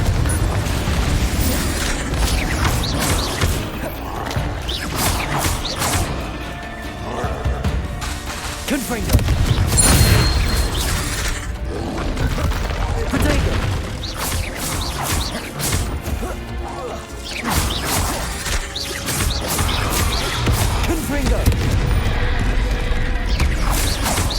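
Spell blasts and crashes in Hogwarts Legacy, dense smashing and booming impacts piled up continuously over a loud game soundscape, with a voice casting spells over the din.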